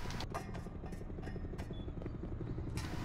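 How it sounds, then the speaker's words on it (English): Helicopter approaching in the online action game APB Reloaded, a steady low rotor thump and engine drone that continues for the whole stretch, with scattered clatter and game effects layered over it. "I can hear a chopper."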